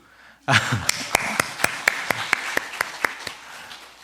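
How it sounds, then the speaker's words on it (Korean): Scattered hand claps from a small church congregation at an early-morning service, starting abruptly and thinning to a slow, uneven patter of individual claps. "박수."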